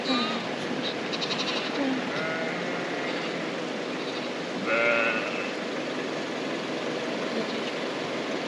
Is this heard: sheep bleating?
yes